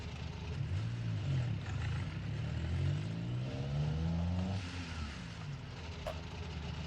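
A truck in the BeamNG.drive video game accelerating hard on a 0 to 60 run, engine revving up through rising gear sweeps with brief shift drops, steady and prominent with no talking.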